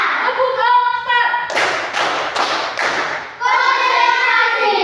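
Schoolchildren in a class strike a counted clapping pattern together, a cluster of crisp unison claps set between their loud group chanting.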